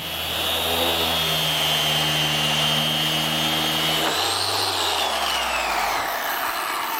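A power sander grinds across the face of a wooden cabinet door during rough sanding, giving a loud, steady motor whine and gritty hiss that shift lower in pitch partway through before trailing off.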